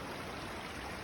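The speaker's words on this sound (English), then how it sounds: "so coming across the stream here." A stream on a hiking trail in the South Carolina and North Carolina foothills flows steadily in a soft, broadband wash. It is faint and continuous, with no voices.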